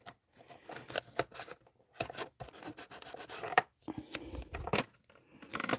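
Low-tack contact tape is trimmed by hand while building a ramp truck bed, with a quick series of close, crisp snips and rubbing scrapes in irregular bursts, fairly quiet and with no talking.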